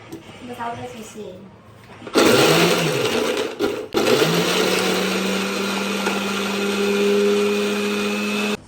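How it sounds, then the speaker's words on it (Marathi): A kitchen mixer grinder blends whole garlic cloves and ginger into paste, starting abruptly with a loud steady whir, pausing briefly, then running on at a high constant pitch, with a voice talking softly before it starts. "आता अद्रक लसूण पेस्ट करू"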